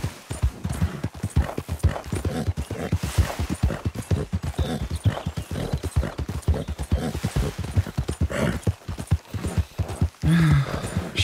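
Horse hooves in Red Dead Redemption 2 pound in a fast, steady galloping rhythm on open ground, up close and continuous. A brief snort or whinny comes near the end.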